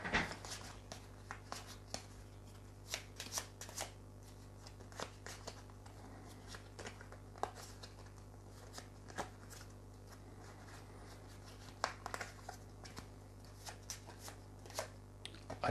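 A deck of playing cards is shuffled and handled during a tabletop game, giving a steady run of soft, close riffling and snapping flicks over a faint background hum.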